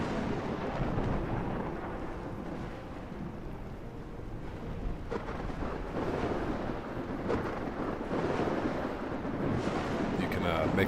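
Thunderstorm in the survival game ARK, a steady roaring wash of rain and wind with low rumbling thunder swelling at moments, running continuously throughout.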